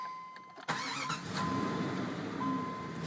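A 1995 Jeep Grand Cherokee Orvis Edition engine cranks with a sharp catch and fires into a steady, rumbling idle, close and continuous for the rest of the moment.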